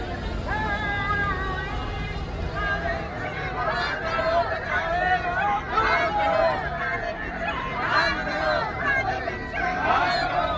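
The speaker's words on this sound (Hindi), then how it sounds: "एक बार फिर रामलीला का मैदान लोगों की भीड़ से पटा पड़ा है" A dense crowd of government employees rallying for the old pension scheme at Ramlila Maidan in Delhi makes a steady, loud murmur of many voices. The babble holds for the whole stretch with no single voice standing out.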